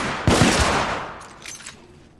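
Brief burst of gunfire from The Order: 1886, a cluster of sharp loud shots in the first second that trails off into fainter rattling and reverberation.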